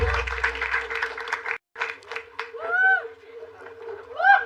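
A comedy show audience claps and cheers for a comedian coming on stage. Dense applause fills the first part, then a brief gap, then scattered clapping with whoops and shouts rising over it.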